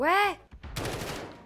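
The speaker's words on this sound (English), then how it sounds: "Who's shooting?" Video game gunfire during a night-map match, a short burst of shots under a voice, following a brief tonal sweep at the start.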